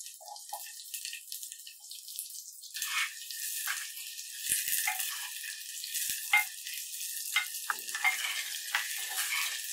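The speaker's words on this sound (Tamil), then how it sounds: "பூண்டு கலர் மாறியதும் அது கூட சாம்பார் வெங்காயம் போட்டு வதக்கணும்." Shallots and browned garlic sautéing in hot oil for a South Indian tamarind kulambu, producing intermittent bursts of hissing sizzle separated by quieter pauses.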